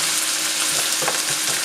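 Pasta with peas fries in a pan while a flat spatula scrapes the bottom, giving a brief, dense, steady sizzle with faint scraping.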